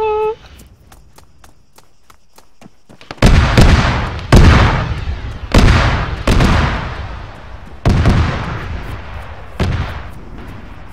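Gunfire in the Arma 3 Altis Life game: after a quiet stretch with a few faint clicks, six loud, booming shots ring out at irregular intervals of roughly one to two seconds, each with a long rumbling tail.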